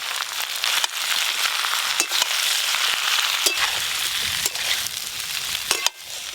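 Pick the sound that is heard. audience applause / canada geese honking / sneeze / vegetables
vegetables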